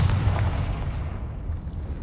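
Confringo fire spell blast in Hogwarts Legacy, a dense booming burst that rolls and decays over about two seconds with a steady low rumble, no talk over it.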